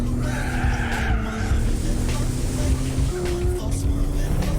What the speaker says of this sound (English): it allows me to crash into other cars, send them flying off the road